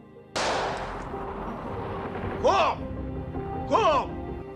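A single sharp crack from a Soviet sniper rifle in a war scene rings out loud and close, then fades into a long, rumbling decay as someone speaks over it.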